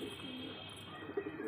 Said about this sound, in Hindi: पटियाला कबूतर है ये भी